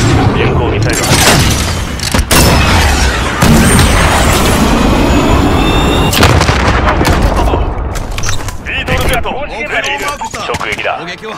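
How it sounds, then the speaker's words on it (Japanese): A cruise missile strike explodes in Call of Duty: Modern Warfare, a loud rumbling boom amid ongoing gunfire and blasts, with game voices talking over the chaos. "こちらマルコ、巡航ミサイル発射。"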